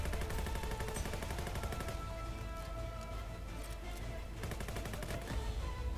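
Rapid automatic gunfire in the online shooter game Venge.io, dense continuous bursts of shots filling the scene, steady and loud throughout with no pauses, no talking.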